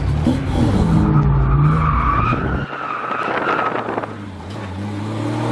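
A car with a welded differential drifting at a night drift event, tires skidding and squealing in long smeared bursts over a droning engine, loud and close, then easing into a lower rumble.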